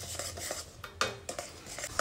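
A spoon clinks and scrapes steadily against a pot while gram flour and semolina are stirred into sugar syrup for a sweet, with quick rhythmic knocks close by and no voices.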